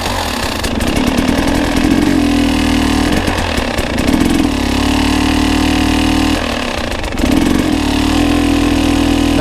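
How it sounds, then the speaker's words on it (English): A motorcycle engine runs steadily at a low, loud idle while the clutch is let out against the held front brake, the engine note dipping and shifting in load a few times before settling again. "You can start the engine, you can hold the front brake, and you can let the clutch out against the front brake"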